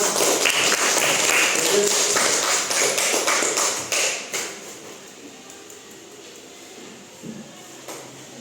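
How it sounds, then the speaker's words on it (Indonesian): Students in a classroom applaud with a burst of dense clapping that tapers off after a few seconds, leaving a quiet room with faint movement. "Tepuk tangan untuk Krisna."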